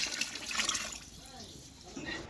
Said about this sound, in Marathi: याच्यात आपण आता पाणी टाकूया तांदळाप्रमाणे बघा पाणी घ्यायचं डबल